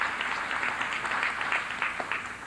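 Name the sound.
audience applause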